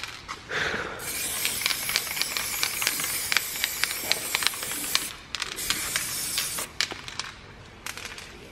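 Undercoating hisses steadily from a spray gun onto a car outdoors, with short breaks in the spray and scattered sharp ticks and sputters along the way.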